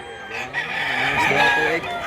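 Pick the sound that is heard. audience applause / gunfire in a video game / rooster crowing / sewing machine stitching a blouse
rooster crowing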